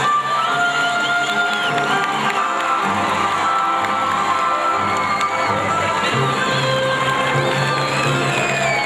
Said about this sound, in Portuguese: Aplausos para esses 2 oficiais.